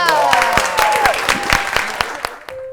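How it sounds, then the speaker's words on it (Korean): A small group claps loudly and close by in a casual drinking-and-singing setting, brisk uneven claps with a voice sliding through the middle, tapering off near the end. "박수!"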